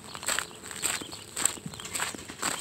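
Footsteps on a mountain trail, a steady pace of crunchy steps on dirt and stones, close and moderately loud, with no talking.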